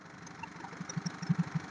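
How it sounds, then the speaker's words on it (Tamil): Hyundai i10 car engine idles quietly and steadily, a low even hum with a few soft rhythmic thuds toward the end, heard alone without talk. "வண்டி சவுண்ட் வந்து ரொம்ப சைலண்டா இருக்கு. ரொம்பவும் சவுண்ட் இல்ல, நார்மல் சவுண்ட் தான்."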